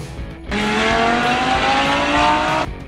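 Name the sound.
supercar engine revving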